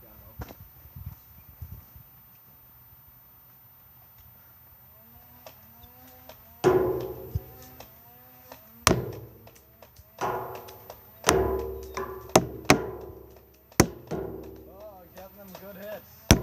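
A Nerf N-Strike Elite Infinus blaster fires foam Elite darts in a string of sharp, clicking shots at an irregular pace, each with a brief thunk, loud and close after a quiet stretch of faint speech.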